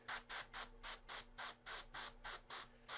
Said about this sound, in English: So I just start spraying this on.